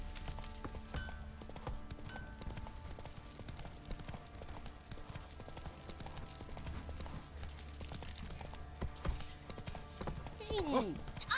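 Horse hooves clip-clopping in The Witcher 3, a steady quiet rhythm of hoofbeats under game music and ambience, with a brief whinny-like flourish near the end.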